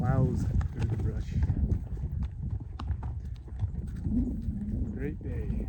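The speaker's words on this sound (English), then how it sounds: "This horse, Houdini, he just plows through the brush." Houdini the horse plods through brush on a steep mountain descent, his hooves giving a steady clip-clop of close, irregular thuds amid rustling vegetation, with someone talking over it.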